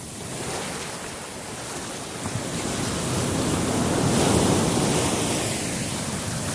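Pacific Ocean surf rolling onto a beach, a broad roar that swells louder toward the middle and eases slightly at the end, with some wind buffeting the microphone.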